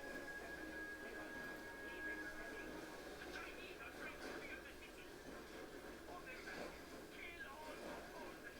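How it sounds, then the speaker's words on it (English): In Command and Conquer Generals, a train drops off GLA soldiers, a continuous low rail rumble and clatter under dense, busy game noise and battle sounds. "I'm aware that trains keep dropping off GLA soldiers."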